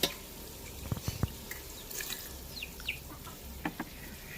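A little water is poured into a mixer jar and rinsed out into a pot of village-style fish curry, heard as faint splashes, drips and a few light clinks against a quiet background.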